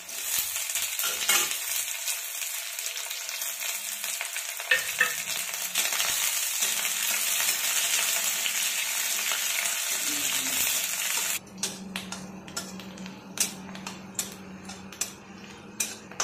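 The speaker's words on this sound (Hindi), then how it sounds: "देखिए प्याज भून लिए हैं, गोल्डन कलर हो गया" Onions frying in a pan until golden for a Bihari dal pitha recipe, with a steady broad sizzle and occasional stirring scrapes that drops to a quieter crackle near the end.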